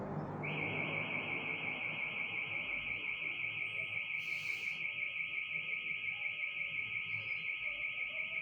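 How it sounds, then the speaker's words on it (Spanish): An electronic alarm goes off during a guided meditation session, holding one steady, piercing high tone without a break from start to finish over a low background hum. "Y hasta nos prende una alarma"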